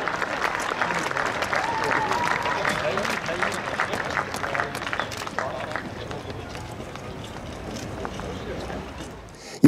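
Crowd applause for a police special unit at an outdoor police and helicopter demonstration in Pfaffnau, Switzerland: dense, steady clapping that fills the first half and slowly thins out, with background chatter underneath.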